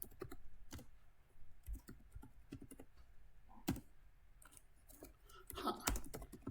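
Typing on a computer keyboard while entering new content into a data file, with irregular bursts of key clicks and brief pauses, close and fairly quiet, with faint room noise and no speech.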